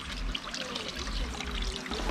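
Water from washed, parboiled brown rice pours and trickles steadily out of a pot as it is strained, a continuous close splashing flow with no talk.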